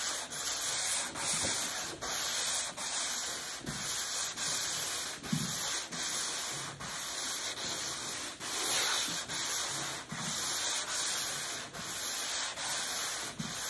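Close, rhythmic strokes of 220-grit sandpaper wet sanding a varnished stand-up paddle board along the grain, a steady back-and-forth rasp repeating about every second without talk.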